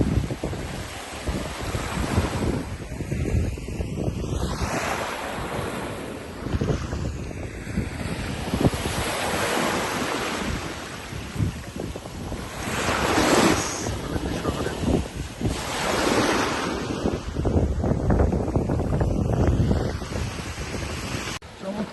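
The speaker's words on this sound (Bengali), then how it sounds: "ঢেউগুলো বেশ ভালো বড় সড়ো ঢেউ" Large ocean waves roll and break on a Kenyan beach between Malindi and Mombasa, a loud continuous surf roar with surges and heavy wind buffeting the microphone.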